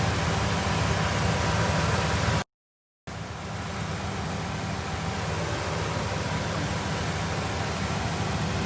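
A car engine idles steadily with its AC compressor engaged, a constant low hum and whir that cuts out briefly for under a second before resuming at the same even level.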